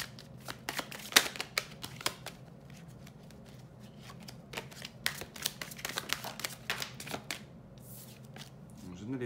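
Lenormand cards are shuffled roughly by hand in quick, irregular bursts of crisp riffling and slapping, close and fairly loud, with a quiet voice talking underneath.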